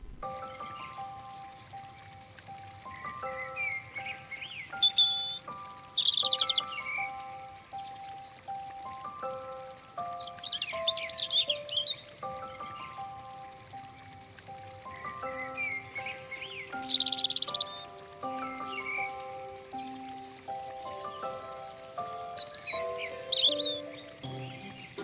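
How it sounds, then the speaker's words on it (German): A European robin sings in a garden, sweet high warbling phrases repeated in bursts with brief pauses, fairly clear and close over a soft background patter. "Rotkehlchen singen mit Ausnahme der Mauserzeit das ganze Jahr über."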